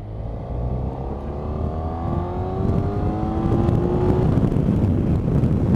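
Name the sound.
Honda Crosstourer VFR 1200X motorcycle accelerating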